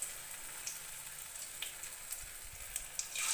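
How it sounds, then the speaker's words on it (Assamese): Potato pakora batter frying in hot mustard and refined oil: a steady, quiet sizzle with soft crackles and a few small pops, no voices. "এতিয়া মই বনাই থোৱা মিশ্ৰণখিনি ইয়াত তেলত এটা এটাকৈ দি যাম।"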